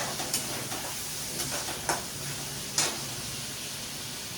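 Spices fry in oil in a kadai for palak kofta curry, giving a steady, soft sizzle with a few sharper crackles and stirring scrapes, and no voices.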